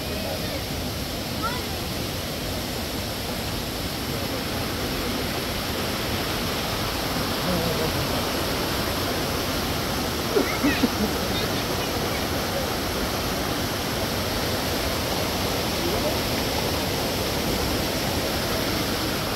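A steady, broadband rush of flowing water from a stream or waterfall in an Iranian natural setting, continuous and enveloping, with a brief faint voice partway through.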